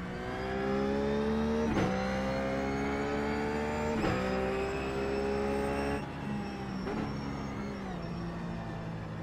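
A Ruf GT3 race car in iRacing at VIR holds a loud, steady engine drone, with sharp pitch drops at each downshift, three distinct shifts spaced a couple of seconds apart, with no talking.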